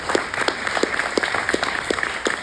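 An audience at a panel discussion on local food economies and climate-smart agriculture gives a steady round of applause for the panelists, dense continuous clapping with a few louder claps standing out.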